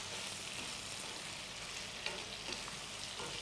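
Sliced bitter gourd frying in a pan for a Bangladeshi hilsa and bitter gourd curry, a steady close sizzle and crackle with occasional small pops, no talking.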